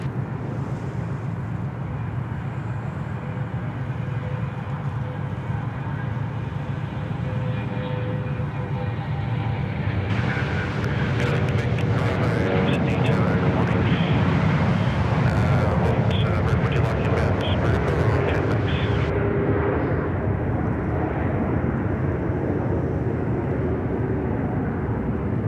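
A Boeing 717 airliner passes at Sydney Airport, a broad steady engine roar that swells and brightens in the middle of the pass and then eases slightly, with wind rumble throughout.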